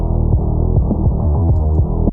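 Heavy, distorted low-end and lower-mid synth bass from a Doom Eternal track throbs loud and dense, with rhythmic pitch drops, and no voice over it.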